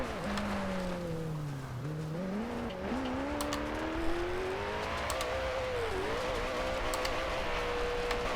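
A 2011 Koenigsegg Agera engine revs in Forza Horizon 2, its pitch dipping and climbing as the throttle is worked through corners. The engine tone holds loud and continuous, with no talk.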